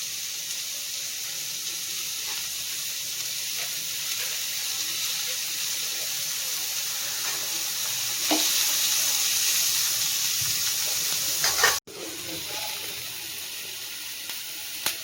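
Onions sauté in a pan with a steady, bright sizzle and hiss that holds evenly close by, broken by a brief sharp crackle and a moment of stirring near the end.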